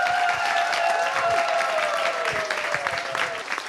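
An audience applauds performers at a live stage show, broad clapping from a crowd with a sustained musical tone running underneath, staying loud before tapering slightly near the end.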